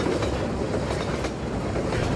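A train in the Half-Life 2 video game rumbles past with a steady, close clatter of wheels on rails, filling the whole moment without talk.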